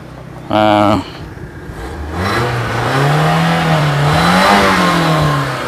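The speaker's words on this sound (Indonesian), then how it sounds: "Oh, ini saya tembus di RPM 6000." Toyota Picnic MPV engine revving up toward 6000 RPM, a rising, roaring mechanical note that swells and holds loud and close after a short burst of speech at the start.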